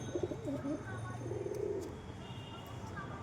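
Pigeons coo softly at close range, a few low throaty calls over a faint background hum, with a voice murmuring briefly.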